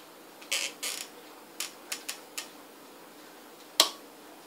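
Two PC mounting clips snap into place during a gaming PC build, giving a series of sharp plastic clicks and ticks, two louder pairs early on then scattered single snaps, close and isolated with no talk.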